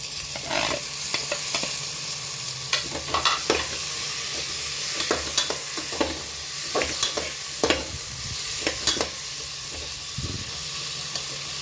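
Chopped tomatoes sizzle and fry in a pan for egg biryani, stirred steadily with frequent sharp scrapes and clacks of the spoon over a continuous close hiss.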